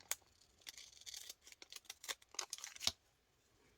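Several short, crisp snips of scissors cutting, irregular and close by, with quiet rustling between them and no talking.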